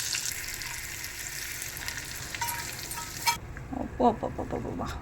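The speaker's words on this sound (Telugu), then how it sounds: "చక్కగా వేగినాయి తాలింపు గింజలు." Tempering seeds fry in hot oil in a pan for a raw tamarind pickle, a close steady sizzle broken by a few scraping stirs, with no talking.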